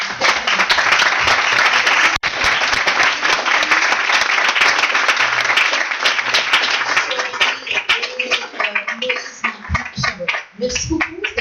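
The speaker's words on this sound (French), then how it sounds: "ce que je veux vous demander, c'est d'applaudir chaleureusement" An audience at a round-table discussion on independent journalism applauds warmly, a loud, dense burst of clapping that holds steady, then thins into scattered claps as voices start to emerge.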